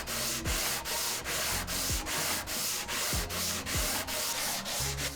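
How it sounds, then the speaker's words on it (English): Sandpaper rubbed back and forth over a wooden guitar fretboard in a steady rhythm of about a dozen scraping strokes, close and evenly paced with no talk. "Sanding. More sanding."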